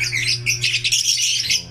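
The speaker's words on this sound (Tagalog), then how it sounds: "Sobrang dami lang po kasi ng ibon natin kaya kailangan natin i-out" Caged birds at a bird sale in La Loma squawk and chirp in harsh, bright bursts, several calls overlapping close by over a steady low hum.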